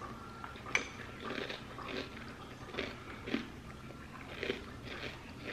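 Cinnamon cereal in unsweetened almond milk being chewed, close to the mic: soft, repeated crunchy bites spaced about every half second to second, quiet and steady with no talk.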